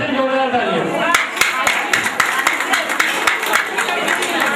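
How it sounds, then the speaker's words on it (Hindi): An audience at a village summer festival breaks into applause, with a burst of scattered hand claps building in under someone speaking over a microphone. "इसलिए उनको भी यहाँ से जोरदार तालियां"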